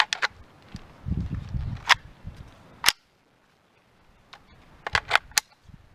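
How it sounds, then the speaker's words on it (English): Shots from a .22LR AKT-98 AK training rifle fired into a dirt bank outdoors crack as sharp isolated reports, a few spaced early and a tighter cluster near the end, with rustling and handling noise between. "I'm shooting into a dirt bank"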